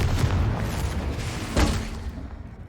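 A spell blast from Confringo in the Hogwarts Legacy video game bursts as a sharp boom around midway, set over a dense, continuous rumble of game effects and noise.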